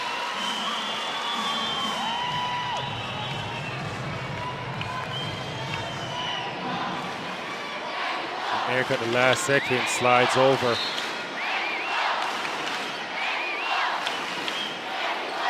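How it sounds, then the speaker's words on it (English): Basketball crowd at a FIBA Women's AmeriCup quarter-final between Brazil and Mexico, a steady roar of cheering that swells near the middle beneath continuous commentator talk. "Crowd's into it right now."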